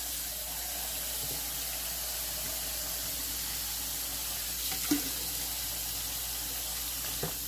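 Tap water runs into a bowl in a home kitchen, a steady, soft rushing hiss with a faint clink or two, continuous throughout and without speech.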